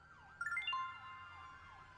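A wailing emergency siren from a fire engine in Grand Theft Auto V rises and falls in repeated sweeps, with a brief cluster of higher electronic tones near the start, no voices.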